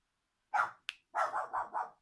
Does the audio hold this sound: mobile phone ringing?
no